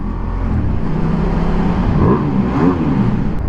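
A 2017 Ducati X Diavel motorcycle on its standard exhaust accelerates nearby, a continuous throaty engine note that rises in pitch through the gears over steady road noise.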